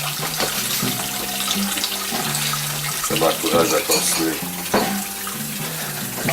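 Water runs steadily from a tap with dishes clinking and sloshing in a sink, while a voice talks briefly over the washing.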